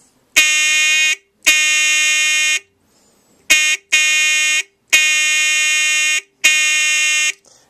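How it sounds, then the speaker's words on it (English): Loud blasts from a repaired vintage Lionel toy train electric horn, a steady harmonic-rich tone sounding in six bursts of varying length with brief silent gaps between them. "I've attached the horn securely to the frame of the train"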